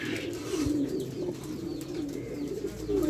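Pigeons raised in baskets on a farm in Bagmara, Rajshahi, cooing close by in a soft, repeated rhythm over a steady background hum.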